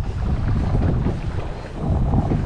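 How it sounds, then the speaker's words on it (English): Steady wind gusting over the microphone while fishing for speckled trout from a boat, a constant loud low roar with light water wash underneath and no talking. "I'm trying to block you guys from the wind."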